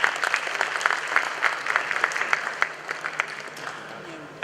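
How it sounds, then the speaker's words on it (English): Applause from a crowd at the GJA Media Awards ceremony, many hands clapping steadily and then thinning out as it fades toward the end. "Shall we do a big round of applause for them?"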